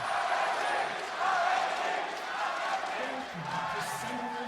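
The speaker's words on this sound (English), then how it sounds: "A lot of cheers in the crowd for RNG." Crowd cheering at the 2016 League of Legends World Championship quarterfinal in Chicago, a steady broad roar from a large arena audience that swells briefly, with a commentator's voice running over it.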